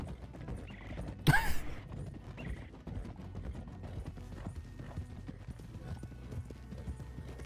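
Steady clip-clop of horse hooves trotting along in Red Dead Redemption 2, with a brief sharp burst near the start and a soft ambient bed underneath; no speech.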